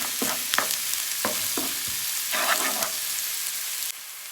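A pan sizzles steadily as onions for an egg omelette sauté with a pinch of salt, with several scraping stirs of a spatula rising over the constant frying hiss.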